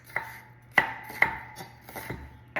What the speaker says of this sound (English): I'm just going to like cut them into very small pieces